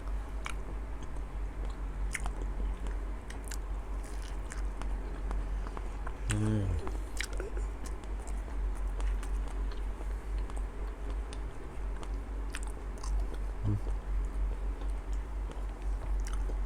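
Someone eats crisp-skinned Monthong durian with soft flesh, giving faint crunches and soft chewing, with occasional sharper bites, heard close up under a steady low hum, with some talking.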